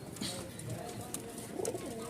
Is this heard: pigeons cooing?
yes